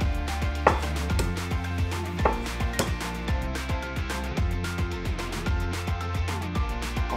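Steady, rhythmic knife strokes chop garlic cloves on a cutting board in a home kitchen, each chop a crisp close thud repeating quickly and evenly with no talking.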